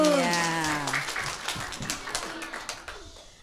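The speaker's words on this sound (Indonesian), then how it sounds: "beri tepuk tangan dulu" Applause from an audience at a kindergarten school holiday event, clapping that swells and then tapers off, with a voice talking briefly at the start and sung or musical tones fading underneath.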